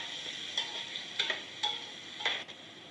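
Garlic ginger paste frying in a pan, a steady soft sizzle broken by four light spoon scrapes at even intervals, quiet and close.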